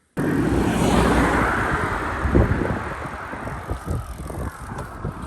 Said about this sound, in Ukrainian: Не дивлячись на те, що дуже сильний вітер і велика кількість машин.